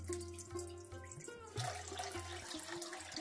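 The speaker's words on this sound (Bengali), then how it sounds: "কড়াইতে জল দিচ্ছি, এখানে" Water runs into a kadai for a rice-flour pitha dough: a short, steady, close splashing pour with a few drips, with no talk.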